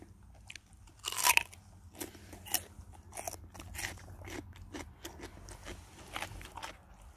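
A Jindo dog named Boksil crunches a juicy red radish, close bites and wet chewing repeating in an uneven rhythm, with one louder crunch early on.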